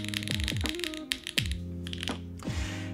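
Typing on an RE65 R2 mechanical keyboard, a heavy weighted board with a full, deep sound: a close, steady run of clacky keystrokes with a few louder, lower thocks, alone without voices.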